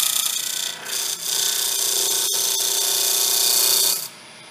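Wood turning on a lathe at about 1,800 RPM, a tool shaving off fine chips in a steady, close, continuous scraping hiss that lasts several seconds with a couple of brief dips, then ends abruptly.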